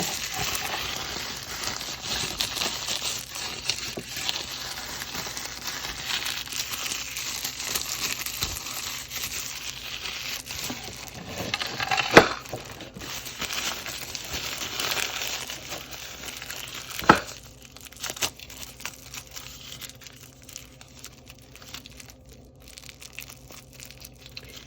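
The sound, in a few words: plastic wrap being peeled off a ramen container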